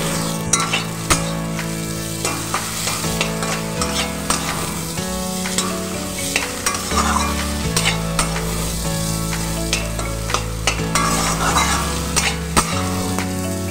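Crushed garlic sizzles steadily in a hot pan, with occasional scrapes and taps of stirring and soft tonal background music underneath.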